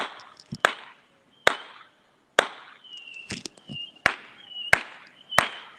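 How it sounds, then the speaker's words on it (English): Fireworks go off outdoors in the distance as a series of sharp cracks and pops at irregular intervals, some followed by short fizzing tails, with quiet gaps between bursts. "they doing them fireworks up there"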